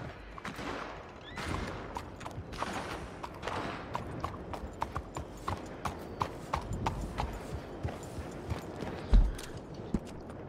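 A galloping horse in Red Dead Redemption 2 Online, with clear rapid hoofbeats throughout and a couple of distant gunshot-like cracks near the end.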